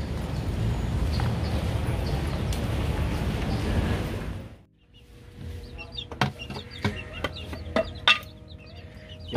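Chickens, including small serama birds, cluck in a farm setting, heard as a series of short, sharp clucks and calls after a stretch of loud rumbling noise that suddenly cuts out.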